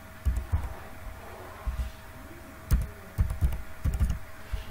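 Number being entered on a computer keyboard, with soft, uneven clusters of key taps and pauses between bursts, fairly quiet against faint background hum.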